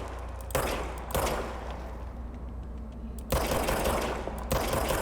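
Gunfire from a weapon in the video game Control comes in several loud, rapid bursts of shots separated by brief pauses, close and dominant over a constant low background.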